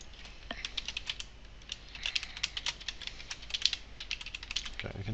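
Close, steady computer keyboard typing: quick bursts of crisp key clicks with short pauses, fairly quiet and heard alone, ending with a soft thump.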